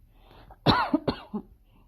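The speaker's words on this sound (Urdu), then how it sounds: "کھانسی کے آپ لوگوں کے پاس کوئی اچھی سی ٹپ ہو تو مجھے بتائیے گا, جس سے میری کھانسی جو ہے خاموش ہو جائے" A woman coughing a few times in close succession, a sharp initial cough followed by two or three shorter, weaker coughs, close and clear in a quiet room.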